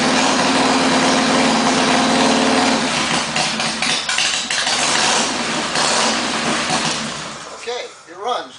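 A motorcycle engine is cranked with the choke on and then runs in a shop, sounding loud and close with a steady throb that shifts and rises as it catches.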